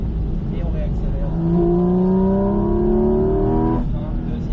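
A race car on the Bresse circuit accelerates hard, its engine note climbing steadily in pitch for a couple of seconds before easing off, loud and close from onboard.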